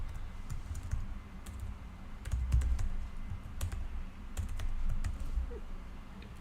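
Typing on a computer keyboard, a steady patter of soft, close key clicks with occasional louder taps, alone without talk.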